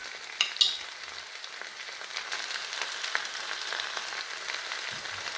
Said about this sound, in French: je vais laisser suer mes épinards jusqu'à ce qu'ils réduisent